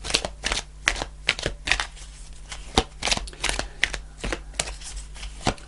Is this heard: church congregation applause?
no